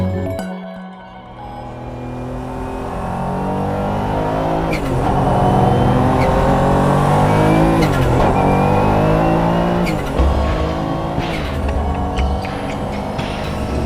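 A 1997 Porsche customer race car engine revving hard, climbing and falling through repeated rising pitch sweeps with sharp gearshift breaks, loud and close, no voices.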